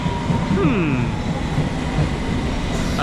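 A London Underground District line train rumbles steadily along the rails with a rising whine and brief metallic squeals, continuous and fairly loud throughout.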